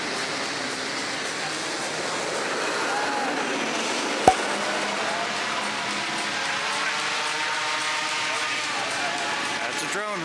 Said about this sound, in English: That's a drone humming.